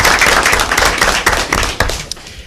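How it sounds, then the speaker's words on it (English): Applause from an audience at a county board of education meeting, a dense, loud, steady patter of many hands clapping close by throughout. "Let's give them a round of applause."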